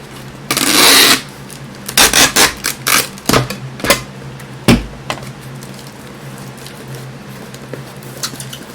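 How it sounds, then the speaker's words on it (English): Packing tape pulled off the roll and pressed onto a cardboard shipping box, a loud ripping screech followed by several quick rubbing, patting strokes, then fading to quiet handling. "Just like that, and then tape it up."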